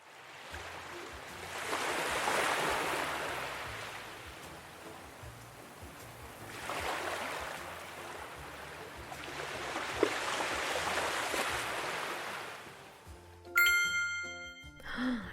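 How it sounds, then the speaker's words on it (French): Ocean waves surge and recede in slow, broad swells with a steady rushing wash, ending with a short bright chime. "Le bruit des vagues."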